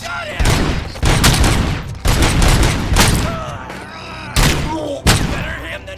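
Gunfire in the video game RoboCop: Rogue City: heavy, close shots and short bursts boom roughly once a second, each leaving a rumbling echo between blasts.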